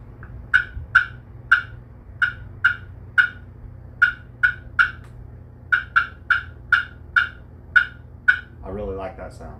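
Sharp, popping clucks played on a custom slate turkey call. About twenty crisp single notes come at an irregular, steady pace, close and clear, and a voice begins talking at the very end.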